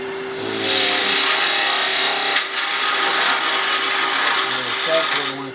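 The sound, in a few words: skew chisel cutting wood on a lathe, turning an angel ornament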